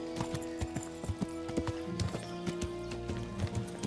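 Horse hooves clip-clop at a steady walking rhythm in the Kingdom Come: Deliverance video game, sounding close and distinct over a continuous tonal music bed.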